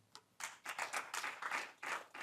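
Scattered audience clapping at an AI workshop for traders, fairly quiet and distant, starting with a single clap and then swelling into several uneven bursts of hand claps.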